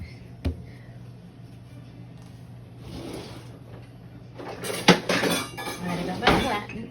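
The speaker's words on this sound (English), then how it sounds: "I'm gonna get a rolling pin so we can flatten it out." Someone fetching a rolling pin in a home kitchen while making buttermilk biscuits, heard as a sharp knock followed by clattering dishes, pans and cutlery rummaged close by, growing louder toward the end.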